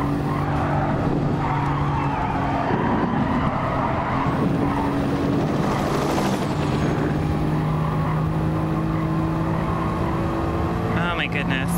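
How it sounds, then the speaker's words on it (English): Tyres squeal and skid long and loud as a car drifts sideways through a corner in Gran Turismo, with engine drone and sustained screeching, while a person talks over it. "It's like drifting it in sideways."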